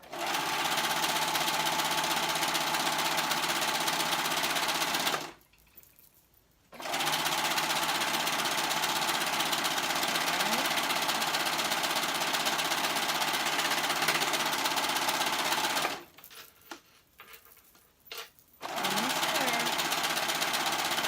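A sewing machine runs in long fast bursts while stitching two layers of fabric for an off-shoulder top, stopping twice briefly before starting again, loud and close.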